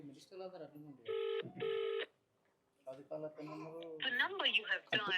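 A phone call to a minister rings and is then cut: two short, steady electronic ring tones separated by a brief pause, heard amid people talking before and after.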